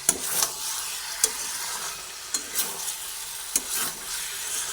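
Water poured into a frying pan of sizzling aubergine, potato and capsicum, with steady hiss and frying crackle broken by several short stirring scrapes.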